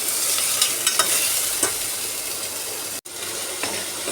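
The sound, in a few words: stirring and frying lentils with green chilli in a pan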